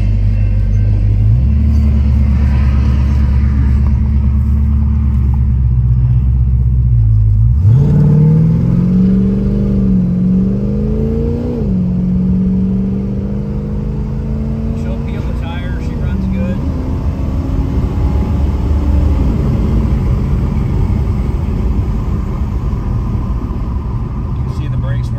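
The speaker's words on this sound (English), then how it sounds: "Train's going by." A loud, low rumble of a passing train rolls on continuously nearby, with shifting engine tones and a car idling close by.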